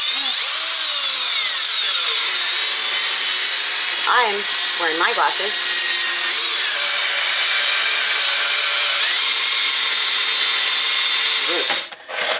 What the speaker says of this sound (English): I'm gonna drill. The drill is up here.